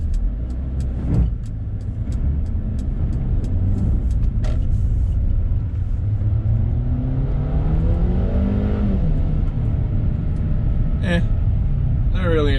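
A 2021 Mercedes GLA250 drives over snow in off-road mode, giving a steady, close engine and road rumble throughout, with a brief rising engine note partway through.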